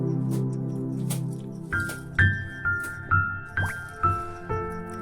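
Oil poured into a pan for frying an egg paratha, first a steady stream, then a series of about six separate drips and glugs at a slow, uneven pace, close and clear.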